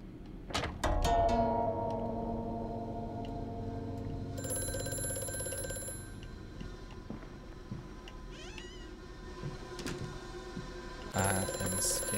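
A telephone rings in the horror game Amnesia: A Machine for Pigs, opening with a loud burst of bell trills and continuing in fainter repeated rings over an ambient game background.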